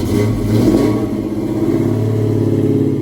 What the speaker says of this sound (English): Fox body. Very clean. Great sounding exhaust.